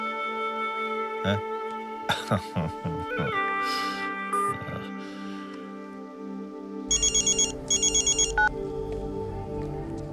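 Short bursts of an electronic phone ringtone sound twice in a row, rising over a steady tonal background after a few scattered knocks and thumps.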